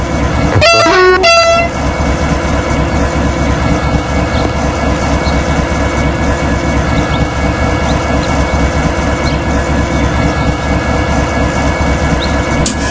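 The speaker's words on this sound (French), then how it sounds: "On va klaxonner." A train horn on a Dijon–Nancy regional service sounds one loud two-tone blast near the start, about a second long, over the constant rumble and hum of the moving train from the cab.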